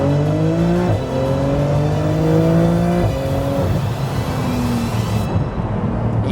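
A Porsche 911 GT2 RS accelerating hard, its engine note climbing loud and close through several rapid gear changes, each shift dropping the pitch before it rises again, with no talk over it.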